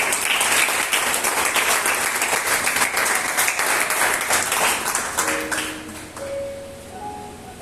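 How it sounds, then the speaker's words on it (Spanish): A church congregation applauds loudly and steadily, then the clapping fades out while a few soft musical tones ring at the end. "Un aplauso al Señor"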